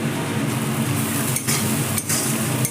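Chopped cashews, raisins and coconut frying in a pan while a spatula stirs, steady close sizzle with scraping and a couple of brief pauses, no talk.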